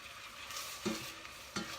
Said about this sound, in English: Let's kind of let that sizzle a little bit.